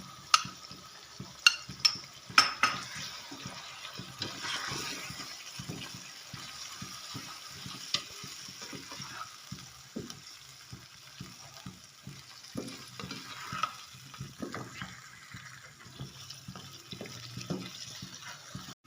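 A spoon stirs whisked yogurt into chicken karahi in a pan, with repeated scraping and clacking strokes over a soft simmering sizzle and no talking.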